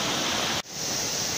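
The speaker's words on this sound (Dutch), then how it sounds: "Ook daar loopt het water nu gewoon door de tuin heen." Floodwater pours through a garden in heavy rain during the July 2021 floods at Mürlenbach in the Eifel, a steady loud broadband rush that cuts out for an instant and then resumes.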